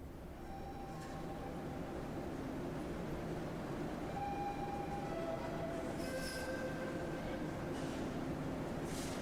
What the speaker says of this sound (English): every time, like when a train leaves the station, I thought it sounded like a choir going like, oh.